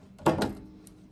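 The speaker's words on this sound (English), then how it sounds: "We're going to get down there as close as we can to the speaker, cut the wires." Small wires to a speaker inside a camera are cut during an audio mod: two sharp, close snips in quick succession, followed by a faint click.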